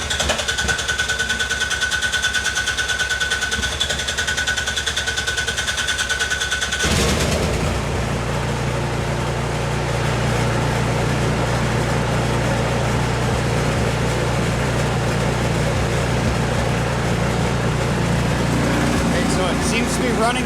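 A snow blower engine sputters at idle, then catches and roars into a loud, steady, rattling run that continues to the end.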